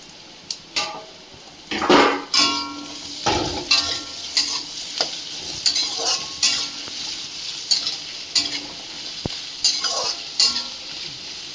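Potatoes go into a frying pan and are stirred, bringing a soft sizzle with repeated scraping and clinking of a spatula against the pan in an irregular rhythm, up close and without talk.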